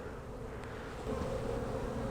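A soft, continuous buzz of bees hums throughout, growing a little louder partway through, with no voices.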